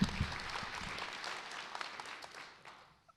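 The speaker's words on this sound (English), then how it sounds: "give another round of applause to Sheriff Gabe Morgan one more time" Applause for a sheriff at a Newport News sheriff's office promotion and awards ceremony, fairly quiet and steady clapping from the audience that gradually thins out and fades away near the end.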